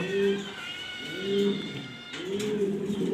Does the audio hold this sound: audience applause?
no